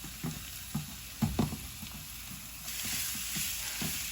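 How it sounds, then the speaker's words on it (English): Ground turkey breast fries in a preheated, oiled pan with a continuous close sizzle, punctuated by repeated scraping and chopping taps as the meat is broken up, the hiss swelling louder toward the end, no voices. "Listen to that sizzle."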